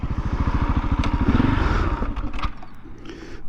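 A 2020 Husqvarna 701 motorcycle with an Akrapovic exhaust putters in a steady, close idle beat that fades and stops after about two seconds as the engine stalls, leaving quiet clatter.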